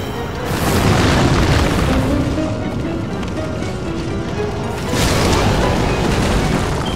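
A fire attack explosion in Demon's Souls rumbles loud and close as a long, dense roaring boom that eases off briefly and then surges again, with no talking over it.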